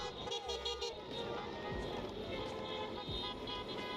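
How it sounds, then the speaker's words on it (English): A car horn honks a couple of short times amid steady road and engine noise, close by. "That's me honking."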